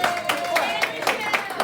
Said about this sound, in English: Come on, you guys, clap for us.